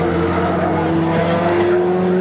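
Dick Johnson's touring race car, number 17, roars steadily along the pit straight at Barbagallo in the 1987 Australian Touring Car Championship, its sustained engine drone close and loud.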